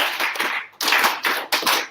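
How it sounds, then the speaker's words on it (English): A group claps hands in quick, rhythmic bursts, about four swells of sharp claps, each rising and fading, fairly close and without talk. "it's the clapping and it gets louder"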